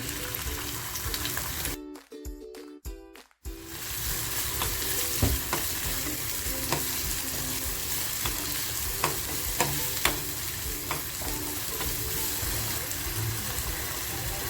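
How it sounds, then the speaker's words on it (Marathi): Onion frying in hot oil for a spicy prawn masala, a steady close sizzle and crackle with occasional clicks, a brief drop around two to three seconds, then continuous frying to the end with no talk. "तेल छान तापलं ना की आपल्याला कांदा टाकून घ्यायचा"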